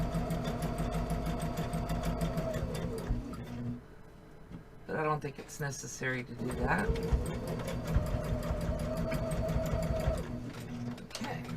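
A sewing machine hums and stitches a tote bag in a fast steady whir, pausing briefly while someone talks, then running again at full speed.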